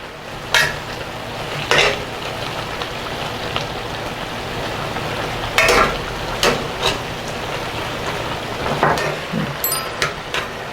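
Dakbokkeumtang chicken stew with green onion, cheongyang and red chilies bubbles in a pot with a steady sizzling simmer, broken by several sharp knocks and scrapes of stirring against the pot.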